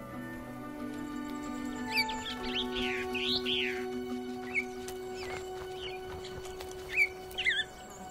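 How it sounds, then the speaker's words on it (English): Tenerife blue chaffinch calling in sparse mountain pine forest near Mount Teide, with short, fairly faint chirps scattered over a quiet background of steady tones. "The Tenerife blue chaffinch."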